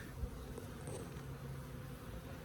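Steady low honeybee buzzing fills the scene, a dense hum from many bees close by while pulling honey supers, with no voices.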